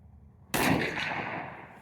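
A single sharp rifle gunshot test-firing L-Tech frangible ammunition strikes a large 24 by 36 inch steel target plate, giving a sudden loud crack followed by a long ringing decay outdoors.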